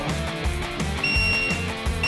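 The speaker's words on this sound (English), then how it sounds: "it will start giving you an alert and beeping like that until you are back to level" A laser level's out-of-level alert: a high electronic beep sounds in short repeated bursts over a steady background hum.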